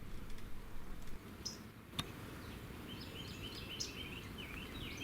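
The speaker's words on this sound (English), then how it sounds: "That is the northern water thrush. They give a very loud, harsh chip." Northern waterthrush giving loud, harsh chip calls, a few sharp isolated chips scattered through a quiet outdoor setting in the Texas Hill Country.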